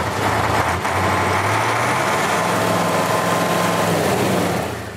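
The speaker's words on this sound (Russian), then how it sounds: "Громко шумит и долго буксует" Vehicle stuck in a roadside ditch in snow on a highway, its engine roaring loudly and continuously while the wheels spin without grip, a dense rumbling drone that stays strong for the whole stretch with no voices.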